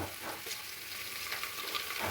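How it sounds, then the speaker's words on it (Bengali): Onions frying in oil until reddish for chicken biryani, a steady close hiss of sizzling that runs evenly through the whole short stretch with no talking. "পেঁয়াজটা একটু লাল লাল করে ভেজে নেব"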